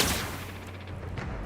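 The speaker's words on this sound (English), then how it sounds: "I thought they were supposed to be shooting at each other." Rapid gunfire rattles in The Outer Worlds video game, a dense loud burst of shots continuing through the brief moment with no speech.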